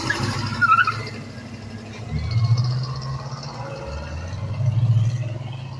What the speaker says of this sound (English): Effortlessly, you hear the rubber burning, right?